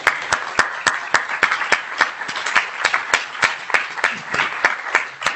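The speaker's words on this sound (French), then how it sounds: "On peut les applaudir." Audience applause at a congress: a steady run of hand claps from a seated crowd, with sharp individual claps standing out over the general clapping for about five seconds and no talking.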